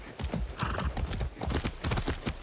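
A horse in the Far Cry 6 video game gallops with rapid, steady clip-clop hoofbeats and gives a whinny, fairly close and moderately loud.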